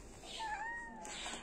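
A domestic cat gives a single drawn-out meow, its pitch rising and then falling over about a second, heard fairly close indoors with no talking.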